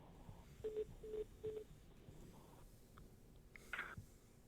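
A cell phone call being dialed: three short evenly spaced keypad tones, then a brief pause and a quicker higher electronic chirp, all fairly quiet over a low background hum, with no speech.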